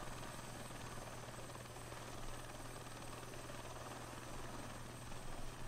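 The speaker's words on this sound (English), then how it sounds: "If I can get a hold of this helicopter here." A helicopter flies in a flight simulator video game set over Liberia, its rotor and engine giving a continuous, even drone with a steady low hum, heard alone and fairly quiet.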